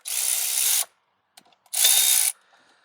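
Two loud bursts of a high-pitched power tool whirring while removing bolts from a GMC Envoy or Chevy Trailblazer water pump, each under a second, with a brief metallic click between them, close by and without talk.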